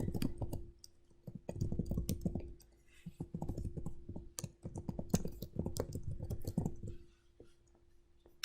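Rapid clicking of keys on a computer keyboard as a recipient email address is entered into an Adobe Sign form, steady bursts of close, moderately loud typing with brief pauses and no talk.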